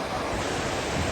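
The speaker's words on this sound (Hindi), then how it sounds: "सामने से ग्लेशियर का पानी आ रहा है ऐसे, और ग्लेशियर का पानी बहता हुआ आगे जा रहा है" Glacier meltwater stream flowing along the Amarnath Yatra trail between Chandanwari and Sheshnaag, a steady broadband rush of water close by, continuous and fairly loud with no voices.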